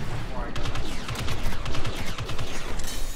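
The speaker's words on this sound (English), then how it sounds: "I'm getting shot at by the MTT in the background" Video game gunfire from Star Wars Battlefront 2, with an MTT firing from the background, comes as rapid, dense bursts of blaster fire with booming impacts, loud and continuous throughout.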